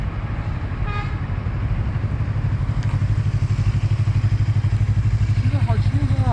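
A Colove 321RR motorcycle rides along with a steady, throbbing engine note that grows more pulsing toward the end, accompanied by rushing wind and a short horn-like toot early on.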